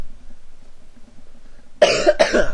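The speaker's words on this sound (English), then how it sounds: "Cough." Two harsh, close coughs burst out in quick succession after a near-silent stretch with only a faint low murmur.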